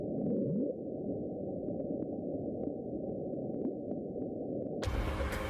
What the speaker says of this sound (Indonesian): Ilmuwan memberi nama The Bloop untuk suara misterius tersebut